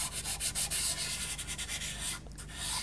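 Close, dry rubbing of white pastel over a drawing, a steady series of scratchy back-and-forth strokes with a short pause near the end, no talking.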